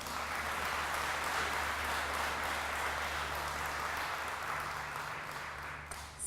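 A conference audience claps for itself, a broad, continuous wash of applause at moderate distance that holds steady before tapering slightly at the end, with a low hum underneath.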